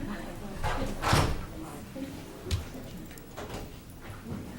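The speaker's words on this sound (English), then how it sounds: "Lock the door so they can't." A meeting-room door swings shut and is locked at a town selectboard meeting, giving a couple of short thuds and clicks amid murmuring voices and room chatter.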